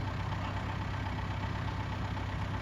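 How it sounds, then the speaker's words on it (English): A big tractor engine idling steadily and close by, a continuous low rumbling drone with no talk, the larger tractor standing ready to pull out a smaller one. "Got the big tractor here to pull out the little tractor"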